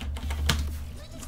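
Quick keystrokes tapped on a computer keyboard while typing a message into a Minecraft server, a short burst of clicks close by with a faint voice underneath.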